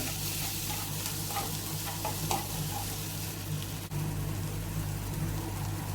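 Tomatoes sautéing in a pan for a fish roast, a dense close sizzle with soft stirring scrapes and a constant low hum underneath, no talking.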